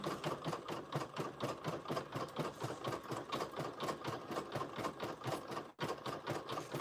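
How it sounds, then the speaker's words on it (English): A machine embroidery unit stitches a knock-down design on a towel or blanket, producing a fast, even mechanical chatter of repeated needle strokes at moderate level, with one brief pause near the end and no talking. "So we're almost done stitching."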